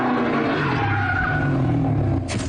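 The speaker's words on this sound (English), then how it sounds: "it was very easy to place the sounds of the car" Car engine revving with loud skidding, squealing tires, played back through a home surround sound system; the roar holds steady and loud throughout, with a brighter screech burst near the end.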